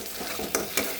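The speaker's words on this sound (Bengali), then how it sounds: "এখন আমি কাজু পোস্ত বাটাটা দিয়ে দেবো, দিয়ে আরেকটু ভেজে নেব।" Cashew and poppy seed paste fries in a pan for a pointed gourd malai curry, a soft continuous sizzle broken by two sharp scraping strokes of a spatula stirring it.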